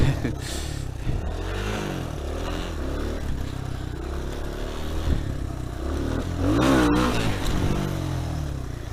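A Honda CRF 86 dirt bike engine revs close by, a raspy buzzing drone that rises and falls with throttle blips, swelling strongest near the end, with some clatter.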